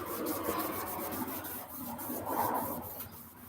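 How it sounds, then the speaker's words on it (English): Filing down a homemade shield, a close, continuous rough rasping and rubbing stroke that swells and eases over a few seconds, with no talking. "Might do a little bit more filing down on it."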